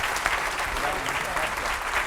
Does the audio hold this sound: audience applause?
yes